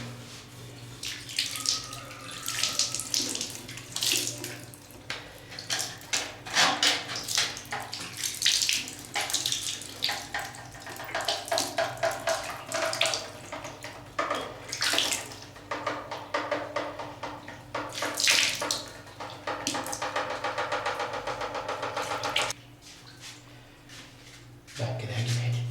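Water runs from a tap in bursts of hissing splashes that start and stop unevenly, fairly close and quiet, with brief clatters and a pause near the end.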